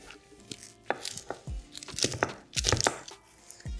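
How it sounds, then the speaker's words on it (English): A cinnamon stick being crushed by hand in a home kitchen: a scattered series of sharp cracks and crunches, close and fairly quiet, with brief rustling between them. "you get your cinnamon stick and you crush it first"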